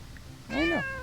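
A pet cat gives one close, clear meow that rises and then falls, short and alone in a quiet room.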